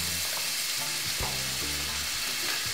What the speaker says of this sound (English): Get the white onion and start frying.